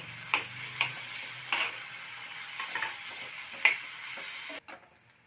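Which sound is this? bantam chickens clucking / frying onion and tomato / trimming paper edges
frying onion and tomato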